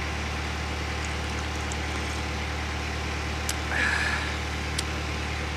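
A construction vehicle's engine runs nearby as a steady low droning idle with a constant deep hum, broken only by a brief faint higher whine and a couple of small clicks.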